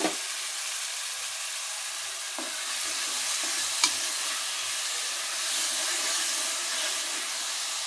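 Onions, green chilies and tomato pieces frying in hot oil: a continuous loud hissing sizzle with a few soft stirring knocks, steady throughout with no talk.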